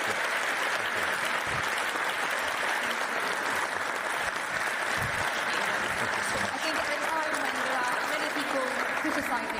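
Audience applause at a NATO defence event in London, a dense, continuous wash of clapping from a large crowd filling the room, with a voice or two faintly audible underneath.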